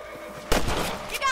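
A single sharp gunshot cracks out while shooting rabbits in the Western video game Red Dead Redemption, followed by a brief rumbling echo and faint game sounds.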